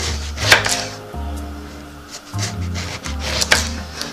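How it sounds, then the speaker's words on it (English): A knife cuts eggplant on a cutting board for a stew, giving firm, close chopping strokes and sliding rasps that come in a few uneven bursts with short pauses between them. "I'm cutting the edge here so that this lays flat while I cut it and it doesn't move on me"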